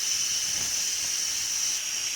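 Steam vents from a 6-quart CHULUX 9-in-1 electric pressure cooker, turned sideways on a kitchen counter near cabinets, in a steady, close, continuous hiss with no pauses and no voices.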